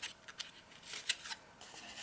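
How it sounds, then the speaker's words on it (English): Craft knife cutting a slot into card, a series of faint, short scratchy slicing strokes close by and alone. "With a craft knife you want to just cut a slot"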